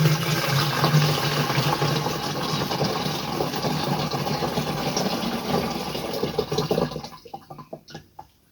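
Liquid is poured through a filter into a knapsack sprayer on a commercial garlic farm, a steady splashing fill that runs for several seconds and then trails off into a few faint drips.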